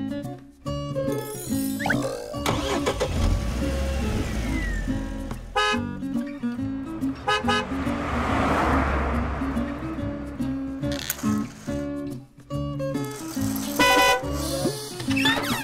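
Car horn toots and engine-like tones in a children's learning song, set against steady bright music with repeated short honk bursts throughout.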